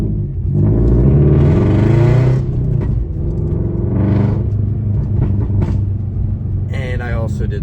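A modified Subaru BRZ with a valve-dump exhaust and pops-and-bangs tune rumbles deeply, swelling in a loud burst and then settling to a lower drone, with a person talking over it.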